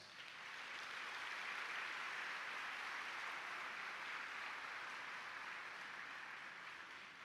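Steady, even applause from a luncheon crowd at a children's awards event, a faint, distant wash of many hands clapping that swells at the start and holds for about seven seconds with no talk.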